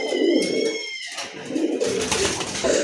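Pigeons, a pair of big white Indian Bombay birds, give soft low cooing calls in a short close burst against a busy background hum.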